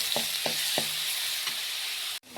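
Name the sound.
ginger garlic paste sizzling in hot oil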